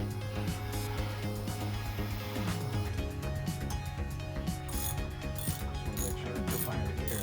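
A hand ratchet tightens bolts on a Honda motorbike engine during a rebuild, with repeated rapid pawl clicking in quick bursts over a steady background hum and no talking.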